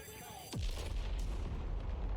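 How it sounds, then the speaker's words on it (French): A deep boom with a falling tone opens an anime episode, Fire Force, and gives way to a loud, sustained rumble that fills the rest of the moment. "l'explosion de début d'animé là qui fait plaisir"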